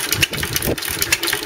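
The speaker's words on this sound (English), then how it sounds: "Well, you see she's running pretty much spot on now." An Amanco stationary engine with magneto ignition runs steadily close by, giving a rhythmic, loud mid-pitched chuffing beat with no talk over it.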